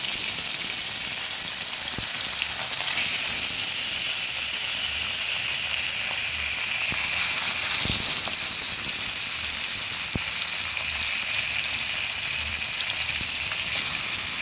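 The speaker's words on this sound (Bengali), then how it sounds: "এবার হলুদ মাখা কাতলা মাছগুলোকে একে একে ভেজে নেব।" Turmeric-coated pieces of katla fish fry in hot oil in a kadai, giving a continuous hissing sizzle with occasional small pops and crackles. The sound holds steady and close throughout.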